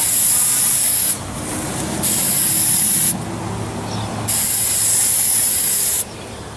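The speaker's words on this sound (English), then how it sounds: "we're going to put a light layer of spray adhesive on all 4 sides of this" Spray adhesive hissing onto a foam boffer weapon core in three sustained bursts of about a second each, separated by short pauses, loud and close with faint handling noise beneath.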